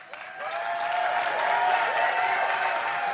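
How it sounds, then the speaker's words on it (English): A home crowd applauding at a League of Legends Season 3 World Championship quarter-final between Fnatic and Cloud9, steady clapping that swells slightly and holds with no voices heard. "An applause here for the home crowd."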